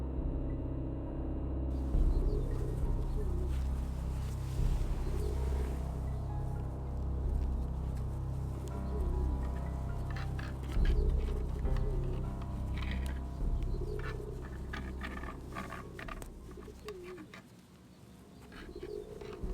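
Bird cooing in the Gabriel Knight 2 adventure game, pigeon-like coos repeating softly at intervals over a steady low rumbling game ambience.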